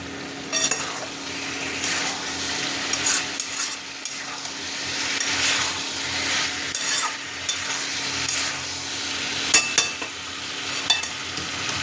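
Cauliflower and peas stir-fried in a wok, a continuous oily sizzle broken by scraping and stirring strokes of a spatula against the pan, close and steady with no talking.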